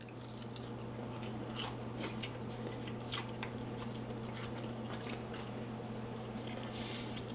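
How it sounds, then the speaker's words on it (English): Crisp bites and chewing on fried vegan chicken skin, a steady run of close crunches over a constant low hum, with no talking. "Definitely gives a crunch."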